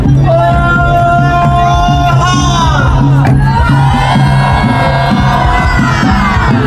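A loud, dense crowd cheers and shouts without pause at the Gawai festival at Annah Rais longhouse, voices rising together in one sustained roar.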